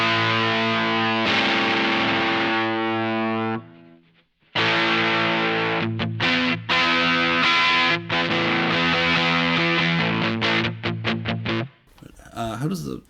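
A heavily distorted electric guitar through a True North Pedals Sugar Shack overdrive pedal plays crunchy, sustained classic-rock chords and riffs, with a brief pause midway and a noisy scrape near the end.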